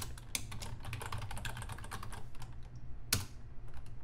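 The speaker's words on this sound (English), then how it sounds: "here we'll just type in your email address and password." Rapid clicking of keystrokes on a computer keyboard as an email address and password are typed in, steady and close with a sharper tap near the end, no voices.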